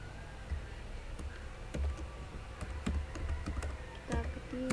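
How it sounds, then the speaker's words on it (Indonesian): Keys clatter on a computer keyboard in irregular bursts of close clicks while code for drawing circles and ellipses with OpenGL in Dev-C++ is entered, with no talk. "Kita ketik"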